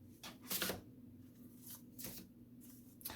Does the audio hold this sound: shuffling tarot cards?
yes